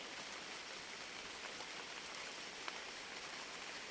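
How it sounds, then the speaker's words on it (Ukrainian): Light rain falls in a soft, even patter, faint and steady throughout with no voices. "Так гарно, коли на вулиці дощик легенький йде."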